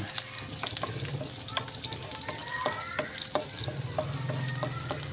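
Garlic frying in a pan for quail adobo, a loud continuous close sizzle with scattered crackles and spatters and some clinking stirring, no talk.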